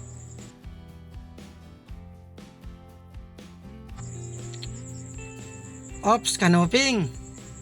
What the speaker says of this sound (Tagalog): Ingay ng mga kuliglig dito.